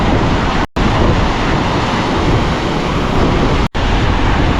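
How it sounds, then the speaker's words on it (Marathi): Rough sea surf at Mandvi pounds in a loud, continuous wash of waves, heavy wind buffeting the microphone throughout with two brief dropouts and no voices. "पण समुद्र भरपूर खवळलेला आहे"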